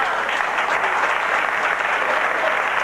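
A bowling crowd at a televised tournament at Stumps Lane applauds steadily and fairly close, a dense, even wash of clapping that holds at full strength for the whole stretch with no voices.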